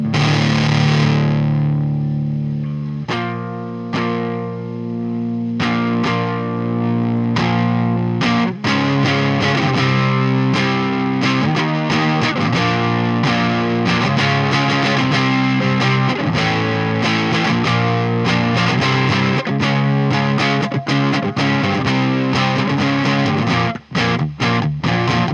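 An electric guitar runs through a Fuzz Face distortion pedal, playing thick, saturated chords and riffs loudly and continuously with a sustained, buzzy fuzz tone.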